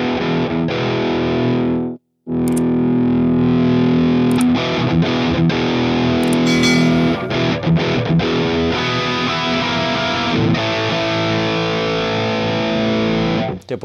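Electric guitar through a Friedman IR-X preamp in a Plexi/JCM800-style voicing, with the gain knob being demonstrated: loud distorted chords and riffs ring out, with a short silent break near the start and no talk.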